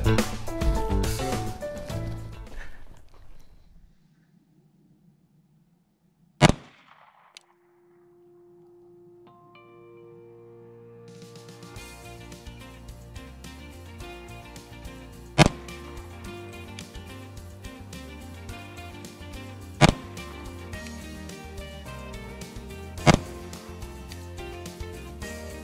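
A Glock 22 Gen 3 .40 S&W pistol fires single sharp shots at an outdoor shooting range. One isolated crack is followed by quiet, then four more spaced reports sound over background noise and music.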